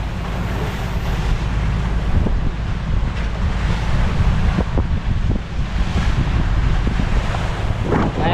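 Rough sea waves crash and surge around a boat in strong wind, with steady broadband wash, gusty microphone wind noise and occasional louder slaps of water against the hull, continuous throughout.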